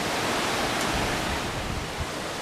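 Strong Hurricane Irma wind roars as a steady, loud, broadband rush with rumbling low gusts throughout, close to the microphone and without any voices.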